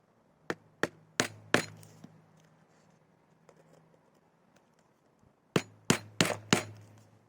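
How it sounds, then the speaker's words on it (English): A hammer taps a sharp center punch on metal to mark holes for drilling: two quick bursts of four crisp, ringing strikes, separated by a few quiet seconds, close and alone. "Sharp center punch, and a hammer to mark out the holes before drilling."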